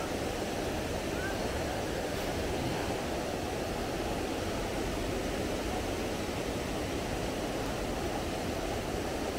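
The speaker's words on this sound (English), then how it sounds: "At least you get a closer view of the waterfall." A waterfall on an ebike route near the ghost town of Daniels, Maryland, gives a steady, even broadband rush that holds for several seconds without letup, moderately loud and alone.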